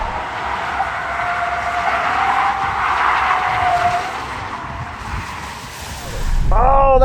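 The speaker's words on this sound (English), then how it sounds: "big skids in the Cyber" A Tesla Cybertruck in Baja mode slides with rear steer off, its tires skidding in a loud, sustained roar with a squealing whine through the middle; the noise dips, then surges again near the end.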